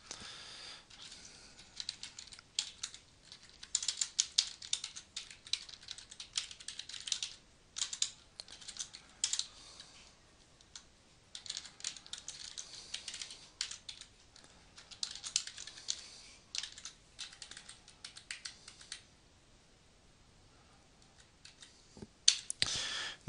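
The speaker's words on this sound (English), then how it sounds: "I'm going to type in a link." Fingers type on a computer keyboard in bursts of rapid, close clicking keystrokes separated by short pauses, quiet and alone with no talk.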